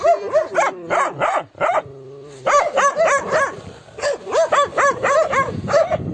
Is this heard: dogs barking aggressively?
yes